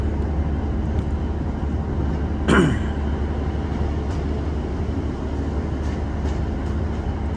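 A train on the line near Crediton, heading towards Barnstaple, rumbles steadily as it runs over the crossover onto the other line, with a brief louder squeal or screech partway through against the continuous low rolling noise.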